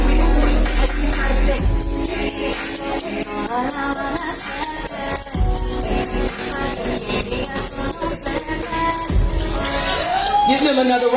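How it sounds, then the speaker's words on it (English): Crowd at an Ohio Kwanzaa celebration cheering and clapping loudly for performers, a sustained roar of voices and shouts with children's cries, with talk over it. "Give them another round of applause."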